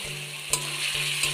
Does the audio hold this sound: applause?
no